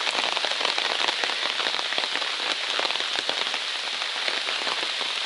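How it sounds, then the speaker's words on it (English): Rain patters steadily on a nearby surface on a New Hampshire stretch of the Appalachian Trail, a dense hiss of drops with occasional sharper taps, no talking. "it wants to start raining again"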